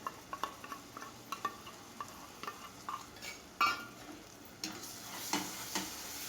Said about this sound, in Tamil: இதையும் நல்லா கலந்து விட்டுக்கலாம்.